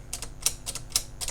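Royal 202 manual typewriter, carriage draw band removed, sounding a run of about six crisp key strikes and backspace clacks, spaced roughly a quarter second apart, close and fairly quiet, with no talking.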